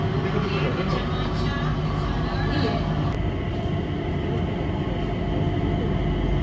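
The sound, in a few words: Singapore airport transit train ride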